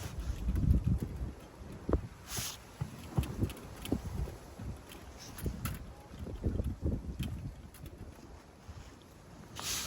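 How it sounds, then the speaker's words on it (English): Gusty wind of up to 30 buffets the microphone in uneven surges and low rumbles, with faint outdoor sounds near water at a carp fishing spot underneath. "it gets really blowy here, gusting to 30"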